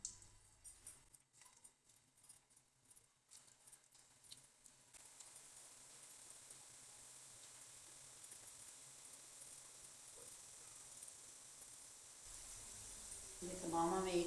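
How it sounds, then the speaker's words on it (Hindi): Chickpea koftas dropped into hot oil, starting with a few clattering handling noises and then settling into a steady, soft sizzle that carries on to the end. "अब हम इसके अंदर कोफ्ते ऐड करेंगे।"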